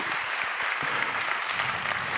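Audience applause at a French innovation challenge event, a dense steady wash of many hands clapping throughout, moderately loud and even.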